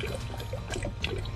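Hot water pouring from a tap in a home in a high Himalayan village, a close, continuous splashing trickle with small bubbling variations and no talk.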